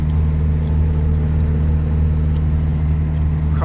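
A car engine labours uphill on the road between Kapshagay and Shymkent, a steady, heavy low drone with a dull hum that never rises in pitch, loud and close with no voices.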